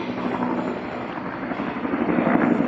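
A helicopter passes overhead outdoors, giving a loud, continuous rotor and engine rumble that holds steady and swells slightly toward the end, with no voices over it.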